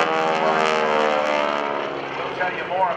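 Aerobatic propeller airplane pulling out of a loop at the 2012 NAS Oceana airshow, a loud, steady engine drone whose pitch slides down over a few seconds, with commentary spoken over it.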